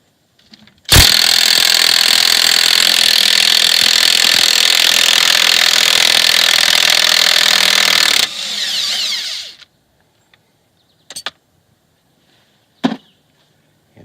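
High-torque impact gun removing axle bolts on a Porsche 986 Boxster, a loud continuous buzzing rattle lasting about seven seconds that winds down, followed by a few sharp short bursts, close and alone.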